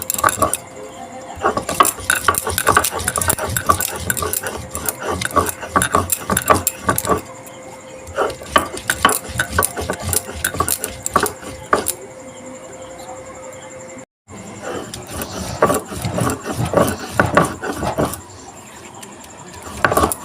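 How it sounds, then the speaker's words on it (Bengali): Ridge gourd peels being ground into a paste, an irregular run of rough scraping and knocking strokes that pause briefly partway through, heard alone and close. "দেখো এইভাবে আমি ঝিঙের খোসাগুলোকে বেটে নেবো"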